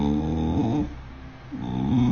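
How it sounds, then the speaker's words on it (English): A dog gives drawn-out, moaning howls with a voice-like pitch that sound almost like words, two long wavering calls split by a short quieter gap, close and fairly loud with no one else speaking. "If I woke up to my dog calling out for mom at 3 a.m., I would be genuinely terrified."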